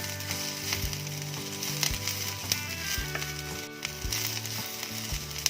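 Pirandai (veld grape) sautés in a pan over a low flame, giving a steady, close sizzle that runs the whole time with faint tonal music underneath.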